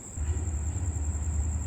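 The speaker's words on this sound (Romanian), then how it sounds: "Intrarea trenului în gară." A train rolls into a station with a steady low rumble of wagons and wheels on rails, close and continuous, alongside a thin high whine and no talk.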